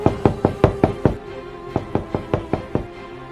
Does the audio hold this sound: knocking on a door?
yes